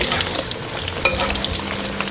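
Walnuts coated in sugar syrup frying in hot oil in a wok, a steady close crackling sizzle with bubbling texture throughout, no voices.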